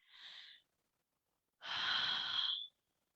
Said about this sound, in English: And a relaxer breath.